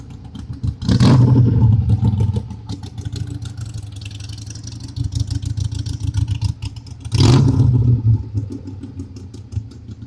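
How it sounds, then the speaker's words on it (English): Vehicles passing on a nearby hill, with two loud engine surges rising and fading a few seconds apart over a steady low rumble and rattling clatter. "Like all these cars be going in and out up there on that hill."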